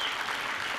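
Political conference crowd at CPAC 2013 applauds, a brief dense burst of clapping heard only for under a second.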